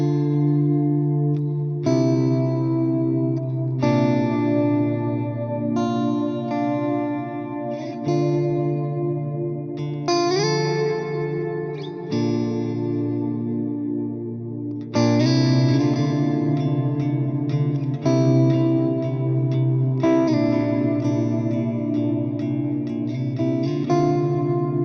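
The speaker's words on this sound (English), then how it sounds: "Deep reverb, isn't it? Very deep." An electric guitar plays through a deep ambient reverb effect, its chords and single notes ringing out and blurring into long washing tails, heard alone and fairly loud.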